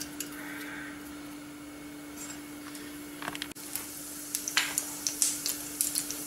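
Mustard seeds and urad dal hit half a spoon of hot oil during tempering for kara kozhukattai, giving a faint sizzle that turns into a run of light, quick popping crackles over a steady low hum.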